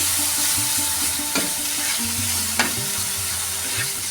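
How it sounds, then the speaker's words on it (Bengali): A spice paste for pea dal sizzles in a pan as water is added. It is stirred with steady scraping, and a couple of sharper clinks of the utensil sound close up. "একটু জল দিচ্ছি সামান্য যাতে মশলাটা পুড়ে না লাগে একটুখানি কষিয়ে নিতে হবে"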